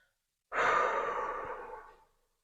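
A slow, deep breath blown out softly during a guided relaxation and concentration exercise, one close, airy exhale that swells quickly and then fades gently over about a second and a half in an otherwise quiet space.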